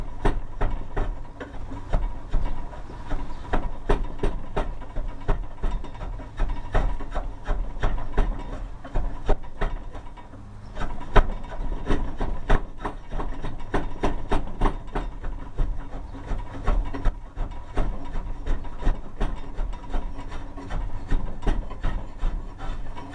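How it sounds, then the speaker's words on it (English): Hand files rasping wood on a longbow, with dense rhythmic back-and-forth strokes that are loud and close, continuing steadily with a brief pause near the middle. "I'll use the files just like I did on the other end"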